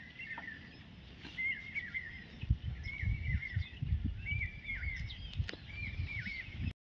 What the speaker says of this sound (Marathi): पक्ष्यांचा किलबिलाट सगळीकडे चालू आहे.